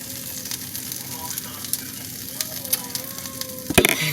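Corn frying in a pan, a close, steady sizzle with scattered pops and crackles and a sharp clatter near the end.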